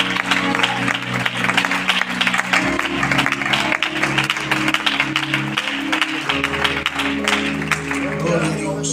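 A church congregation applauds in praise, a continuous dense wash of clapping from many people that fills the whole stretch, with music and voices running underneath.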